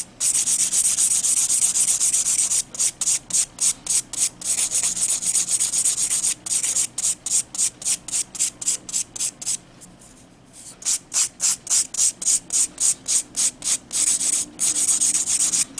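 Grinding a terrazzo art piece to expose the pattern, a steady harsh abrasive rasp that breaks into quick rhythmic back-and-forth strokes, with a brief pause near the middle, close and alone without speech.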